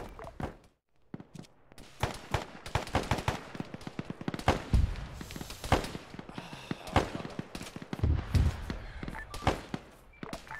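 Gunfire in a military video game, with sharp close shots and rapid bursts scattered irregularly, plus faint more distant fire and some movement between shots.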